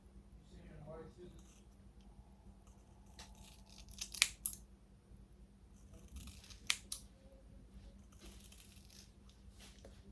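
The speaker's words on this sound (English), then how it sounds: "These scissors is weak." Scissors snip through wig hair in a few sharp, quiet cuts spaced apart, set against a low background hum.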